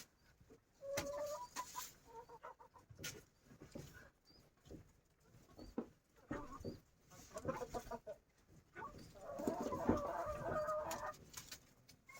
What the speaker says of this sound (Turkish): Tavuklarımız yesinler arkadaşlar.